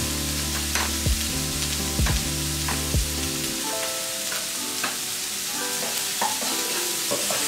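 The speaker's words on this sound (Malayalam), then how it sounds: "ഇത് പെട്ടെന്ന് ഈ സവാള ഒന്ന് വഴണ്ട് കിട്ടാൻ വേണ്ടിയിട്ട് ഒരു തിരിച്ചെടുത്തു." Onions are sautéed and stirred in a hot pan, with a steady sizzle beneath repeated scraping strokes of the spoon that are heavier early on, then settle into frying with light, scattered stirs.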